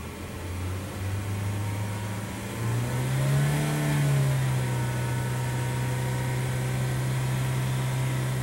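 A 1999 VW Passat engine idles, then revs up to about 4,000 RPM and holds there as a steady, loud, close drone.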